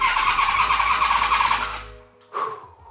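An old Honda VFR 750 motorcycle engine cranks with a steady, loud whir for about two seconds, stops, then gives one short sputtering catch before dying, close by with no talking.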